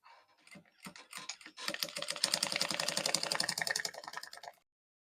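A sewing machine stitches along the edge of corset boning for an underbust corset: a few short separate bursts, then a fast steady run of needle strokes for about three seconds, fairly close and alone before stopping.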